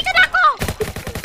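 Rapid gunfire bursts from a Roblox jailbreak roleplay game, loud and close, with a short voice at the start before a run of quick repeated shots.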